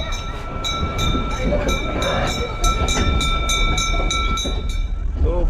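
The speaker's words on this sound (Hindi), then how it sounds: "आपको दिखाते हैं टॉय ट्रेन की जर्नी कैसी रहती है।" A toy train near Siliguri rolling along, a loud steady rumble with a rapid regular clatter of wheels on track and a sustained high tonal whine, close and continuous throughout.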